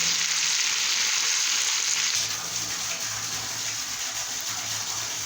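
A pan of bean pod vegetable cooks under a lid, producing a steady, even hiss and bubbling sizzle that stays close and constant throughout.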